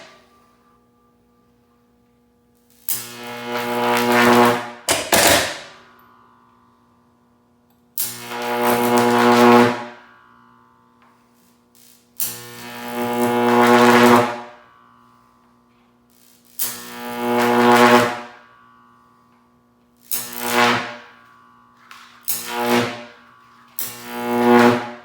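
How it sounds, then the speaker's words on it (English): High-voltage arcs from a 14.4kV 15kVA transformer jumping off a 7014 welding rod, heard as a loud buzzing, humming roar that comes in repeated bursts of several seconds each, separated by short silences. "Those are beautiful big arcs."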